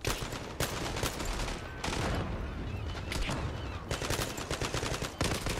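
Dense bursts of automatic gunfire in the video game Zula, rapid shots stacking into loud near fusillades with brief gaps between volleys.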